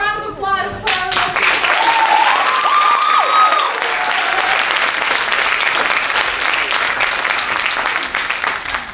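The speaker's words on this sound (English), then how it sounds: "let's give a round of applause for our little" An audience at a murder-mystery theatre show gives a round of applause, dense sustained clapping filling the whole stretch, with a brief voice at the start and faint murmurs beneath.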